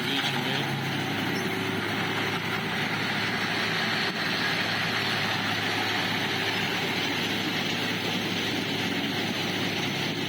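Combine harvester engine running steadily in a wheat field in Qəşəd village, Ağsu district, a constant low droning rumble with a broad mechanical hiss, unchanging throughout and without speech.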